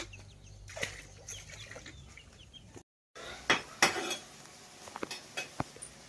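A household rooster clucking nearby in a morning kitchen, a few short clucks mixed with clinking pots, dishes and cutlery, plus a brief gap of silence midway.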